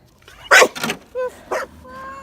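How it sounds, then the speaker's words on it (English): A dog out in a snowstorm gives a few short, fairly loud yips and whimpers close by, mixed with people talking nearby. "You're a crazy dog."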